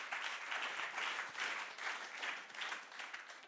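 A church congregation at a Sunday worship service applauds in a steady, sustained wash of clapping that rises and falls slightly, heard at a moderate distance.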